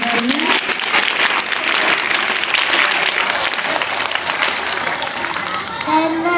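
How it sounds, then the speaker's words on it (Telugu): Loud, continuous applause from a school audience at Sri Saraswathi Shishu Mandir High School in Hyderabad rings out for Doctor Shanvi, many hands clapping densely and evenly from start to finish. "డాక్టర్ శాన్వికి గట్టిగా చప్పట్లు కొట్టుకుంటాం."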